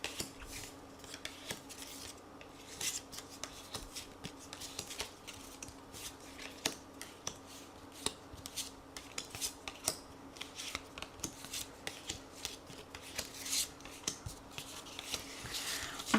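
Tarot cards are shuffled and drawn during a reading, giving a faint, steady stream of soft flicks and light snapping clicks with no talking.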